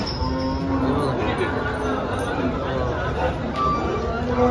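Cows lowing in a busy Dhule cattle market where HF, Jersey and local breeds are sold, with a steady din of crowd chatter and voices throughout.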